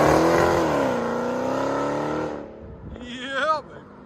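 A Dodge Challenger SRT Hellcat with a Black Widow exhaust revs up close. Its deep exhaust rumble swells and then falls away, and a short rising vocal sound follows near the end.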